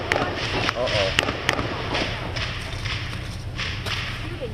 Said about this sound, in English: We heard those gunshots